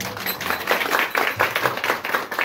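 An audience claps at a bharud folk performance, giving a close, fairly loud burst of applause with a rhythmic, beat-like pattern of strong pulses. No speech can be heard.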